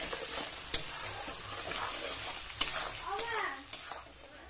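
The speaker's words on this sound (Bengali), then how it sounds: "দিয়ে দিচ্ছি আমি অল্প নুন, দিয়ে আমি কিছুক্ষণ নাড়তে থাকবো।" Masala frying in a pan with a little salt for a prawn malai curry, sizzling steadily while a spatula scrapes and stirs with a few sharp clinks, under faint background voices.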